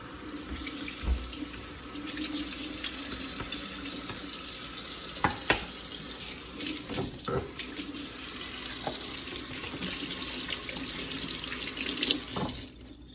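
Pork chops being rinsed under a running kitchen tap, with a steady close water stream splashing into the sink and occasional clatter and handling noises, no talking.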